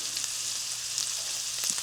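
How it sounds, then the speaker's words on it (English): Steady, crackling sizzle of steak frying in butter in a pan, continuous and close, with a few brief louder pops near the end. "And you want to hear a sizzle."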